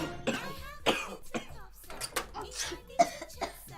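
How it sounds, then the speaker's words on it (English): Several coughs and throat-clearing sounds come in quick succession, close and fairly quiet, mixed with a few brief vocal noises. "Daddy's coughing, Gina is coughing"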